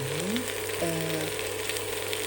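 Potato pieces stir-frying with onion in butter in a pan, giving a steady close sizzle and crackle under a faint tonal hum, with no talking.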